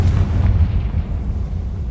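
A Confringo blasting spell detonates in Hogwarts Legacy, a heavy low boom with a rumbling tail that fades over about two seconds, loud and close.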